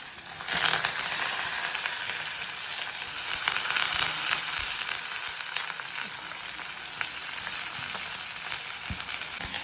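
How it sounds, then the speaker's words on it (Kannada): Chopped onions and curry leaves hit hot oil already holding frying urad dal for sambar, making a loud, continuous close-up sizzle with crackles and pops that stays dense and unbroken for the whole stretch. "ಫ್ರೈ ಆಗ್ತಾ ಇದ್ದಂಗೆ ಈರುಳ್ಳಿ ಕರಿಬೇವು ಹಾಕೋಬೇಕು"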